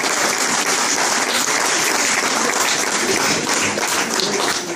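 Loud, sustained applause from a crowd at a municipal election list presentation in Désertines, a thick unbroken wash of many hands clapping together from start to finish.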